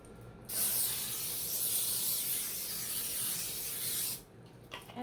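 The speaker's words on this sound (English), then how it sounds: "Now we're going to spray our pan." Cooking spray is sprayed onto a baking pan in a kitchen: one continuous, close, bright hiss lasting about four seconds that starts and stops sharply, with quiet before and after.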